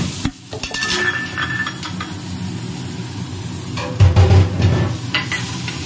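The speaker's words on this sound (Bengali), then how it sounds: "সাদা তেল দিয়ে এর মধ্যে রসুন দিয়ে দিলাম" Garlic sizzling in white oil in a hot pan with stirring scrapes and a few utensil clinks, fairly close and steady, with no talking.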